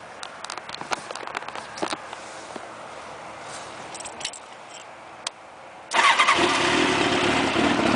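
Faint ticking and clicking, then a 1994 Honda CBR1000F motorcycle engine with drilled exhaust pipes fires up loudly and settles into a rough, throaty idle.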